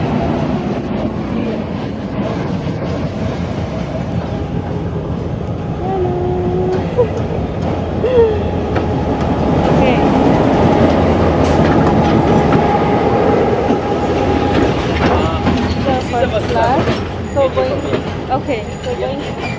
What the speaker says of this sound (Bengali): সো এটা হচ্ছে আমাদের ট্রেন।